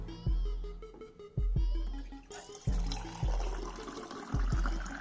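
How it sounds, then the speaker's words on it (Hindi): Water poured into a container to mix with glow stick liquid, arriving in short repeated splashy pours about once a second, close and fairly quiet, with trickling between bursts. "तो अभी ऐसा करते हैं इसमें पानी को मिक्स कर देते हैं।"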